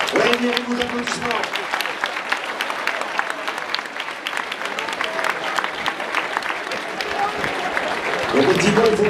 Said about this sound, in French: il mérite vos applaudissements.